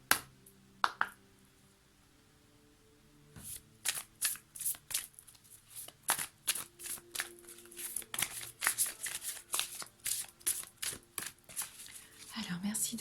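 Oracle cards are shuffled close by, with quick dry riffling and soft slapping in rapid bursts, while a voice talks quietly underneath.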